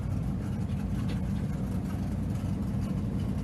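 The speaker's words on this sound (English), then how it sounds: "super high revving 4-cylinder engine" Four-cylinder engine of a Pro Buggy short course off-road race car at Victorville, droning steadily and loudly at high revs throughout, a dense continuous roar with no pauses.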